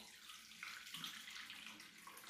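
Hot water pours steadily into a sauce for Turkish stuffed cabbage rolls (sarma), a soft continuous splashing stream heard close and alone, with no talking.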